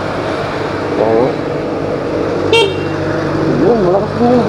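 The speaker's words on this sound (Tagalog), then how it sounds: "Ayan, malakas din yung busina." A Rusi Flex 125i motorcycle sounds its horn in a few short toots between spoken commentary, close and loud over a constant idling hum, with a brief sharp tone in the middle.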